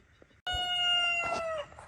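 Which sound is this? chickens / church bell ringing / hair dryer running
chickens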